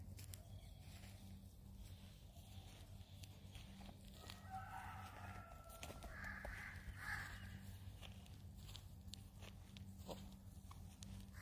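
Crows cawing from trees along an early-morning walk, several scattered calls over a steady low background hum, moderately distant, no speech.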